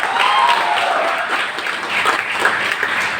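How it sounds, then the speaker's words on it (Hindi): Loud, steady applause from a speech audience in Patna, Bihar, with dense clapping sustained throughout and no break. "आपने हमारे लिए तालियां बजाई"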